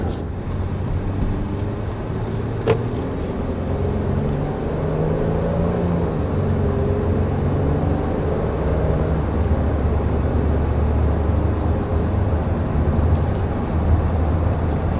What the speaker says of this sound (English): And getting up to highway speed, power definitely feels more than adequate.